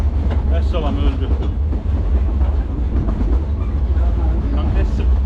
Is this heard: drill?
no